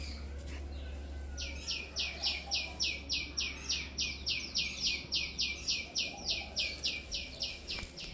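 Mynas and other birds call in the heat of the afternoon, one bird repeating a quick, regular run of sharp chirps for several seconds against a soft background of distant calls.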